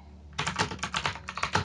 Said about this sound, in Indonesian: Jadi di sini tinggal langsung ketikkan dulu